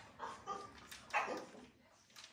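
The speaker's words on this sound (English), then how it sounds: "This dog, every time we're recording a video, is either snoring or making some ridiculous noise." A dog makes odd whimpering, yipping noises in a few short bursts, fairly close and quiet, with no talking over it.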